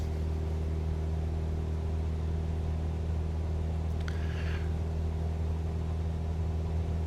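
A small airplane engine at full throttle during the takeoff roll, a steady, loud droning rumble with strong low harmonic tones holding constant throughout, plus a brief click partway through.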